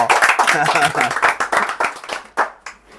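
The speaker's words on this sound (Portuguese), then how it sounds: "E uma salva de palmas." Group clapping in a corporate motivational session, individual claps audible as sharp repeated hits mixed with voices, the clapping thinning out and scattering toward the end.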